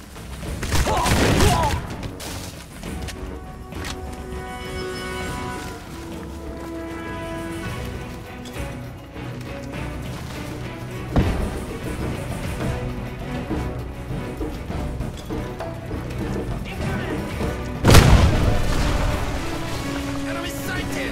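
Grenade blasts and gunfire ring out in the first-person shooter Crysis: heavy booms near the start and again late on, with scattered shots and rumbling battle noise between them and faint voices mixed in.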